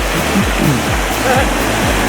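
Boggs Creek, a trout stream in Lumpkin County, flows and splashes in a loud, close, continuous rush, with low knocks and gurgles rippling under the water noise.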